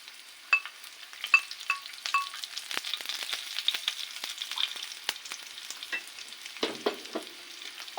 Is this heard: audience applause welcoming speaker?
no